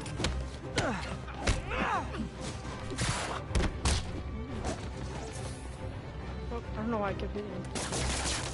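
Gunfire from the Spider-Man PS4 video game, several sharp bursts and thuds scattered across the scene amid crashes and combat noise, with voices talking between the shots.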